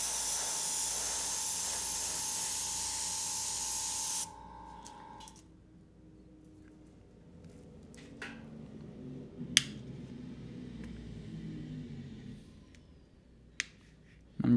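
Airbrush spraying transparent paint over a stencil on a zombie-themed painting, a loud steady high-pitched hiss that cuts off after about four seconds, followed by quiet handling, soft taps and a few sharp clicks.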